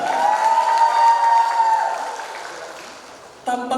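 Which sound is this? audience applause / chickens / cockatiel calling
audience applause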